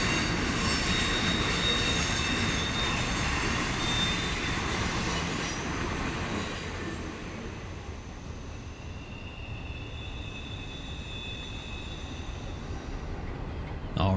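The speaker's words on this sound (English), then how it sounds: "Nice intermodal train, Norfolk Southern, the Lady Liberty locomotive." A Norfolk Southern intermodal freight train, led by the Lady Liberty locomotive and hauling trailers on flat cars, rolls past nearby with a steady heavy rumble and squealing wheels, easing slightly quieter toward the end.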